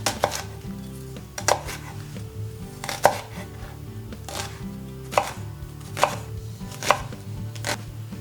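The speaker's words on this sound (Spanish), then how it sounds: "Picamos también la cebolleta." A knife chops spring onion on a board in a steady series of crisp, close chopping strokes, with a few sharper loud hits, while soft music plays underneath.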